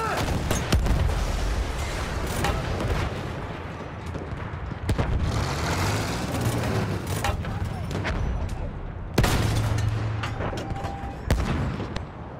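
A field gun booms repeatedly in the World War I shooter Battlefield 1, with heavy blasts and rumbling explosions among other battle noise while a player shouts excitedly over the din.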